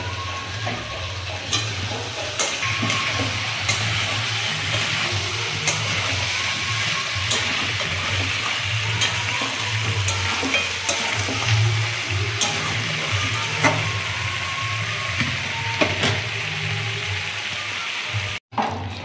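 Chicken curry with potatoes stir-fried in spice paste, a steady close sizzle and frying hiss with repeated scraping stirs of a spoon against the pan, continuing without talk until a brief cut near the end.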